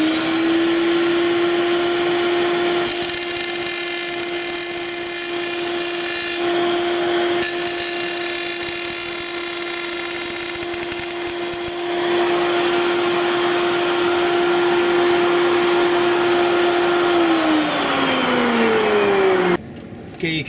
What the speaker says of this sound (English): My tool of choice is a router to trim this part.